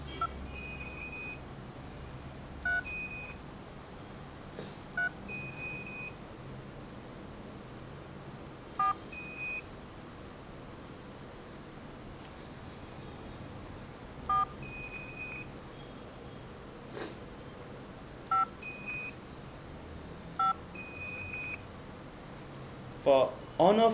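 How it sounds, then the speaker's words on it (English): A mobile phone used to switch home lights and appliances sends scattered keypad tones, each followed by short single or double confirmation beeps, faint and spaced out over low background noise, with talking in between. "in the second press, the lights will be off. You'll get 2 beep. And you will get a double beep."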